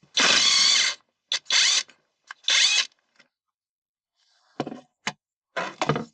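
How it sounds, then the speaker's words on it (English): An electric impact gun on a 17 mm socket removing an Audi A6 rear seat belt anchor screw: close, loud buzzing and rattling bursts separated by short silences, the last few shorter and softer. "I'm using this electric gun."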